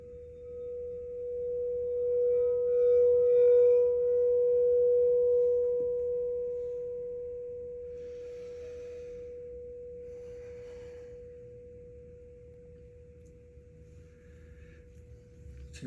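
Clear crystal singing bowl for the crown chakra rings out as a single sustained pure tone, swelling louder through the first few seconds, then slowly fading while humming on alone to the end.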